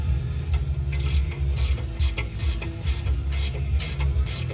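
A hand ratchet tightening a bolt on a leaf spring add-a-leaf kit for a 1980-1997 Ford F-250/F-350 with twin I-beam suspension, rhythmic bursts of close, rapid clicking repeating about every half second over a low background hum.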